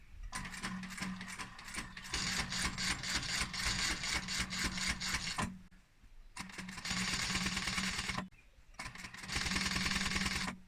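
An electric sewing machine stitches a sofa cushion seam for upholstery, its rapid mechanical chatter loud and steady in three long runs broken by two short pauses, with no voices.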